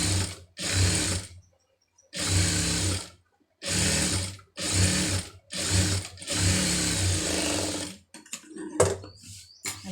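A sewing machine stitches lining in a series of short bursts separated by pauses, each run a rapid mechanical whir, ending with scattered clicks and fabric handling.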